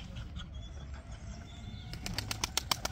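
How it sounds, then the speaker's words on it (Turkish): Pigeons taking flight from a rooftop loft, soft continuous wing flapping building into rapid, sharper wing claps near the end, fairly faint and outdoors. "hedefte duran kuşlar da uçuyor"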